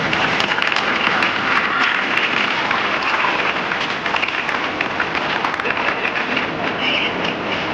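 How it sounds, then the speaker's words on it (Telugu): Children clap at a school Women's Day celebration, a dense, continuous wash of applause with voices mixed in. "చప్పట్లు కొట్టాలమ్మా."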